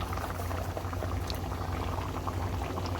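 Paneer butter masala gravy bubbling in a pan, a dense continuous burble of small pops and low rumble, close and steady, with no speech.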